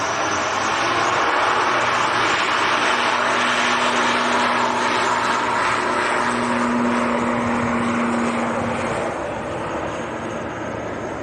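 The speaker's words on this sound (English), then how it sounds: "That was the noisy Loganair just disappearing behind us off to the Isle of Man" A Loganair airliner departs Manchester Airport for the Isle of Man, its engines making a loud, sustained roar that holds steady and then eases off slightly near the end as it moves away.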